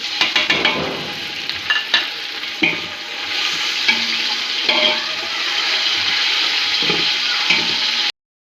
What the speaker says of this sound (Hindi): अब इसके अंदर हम अपने जो चिकन हमने रखा था उसको डाल के फ्राई करेंगे।